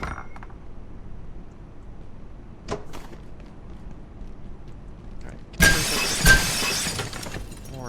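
Glass shatters in the video game Abiotic Factor, a sudden loud crash of breaking panes after a stretch of quiet with a few faint clicks, followed by a second burst of tinkling shards.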